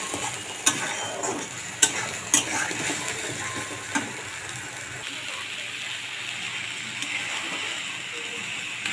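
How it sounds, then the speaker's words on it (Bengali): Bombay duck fish stirred in a pan over a high gas flame gives a constant frying sizzle, broken by a few sharp spatula scrapes and taps, with no talking. "গ্যাসের ফ্লেমটা আমি এবার হাই করে দিয়েছি এবার অনবরত নাড়তে থাকবো"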